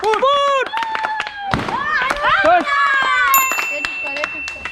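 Balloons pop during a party game where the Ludo dice number decides which balloon bursts, sharp bangs scattered among loud, excited voices and clapping, with squealing tones throughout.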